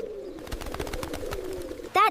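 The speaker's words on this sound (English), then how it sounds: "The pigeons want food." Pigeons at a zoo coo in a low, rolling murmur with light fluttery clicks, close by and fairly clear, and a brief voice cuts in at the very end.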